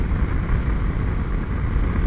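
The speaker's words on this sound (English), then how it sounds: "the wind is a lot of wind buffeting" Heavy wind buffets a rider on a 2020 BMW F750 GS motorcycle cruising in sixth gear at about 110 km/h and 4,000 rpm. A loud, constant low roar rumbles and gusts without a break.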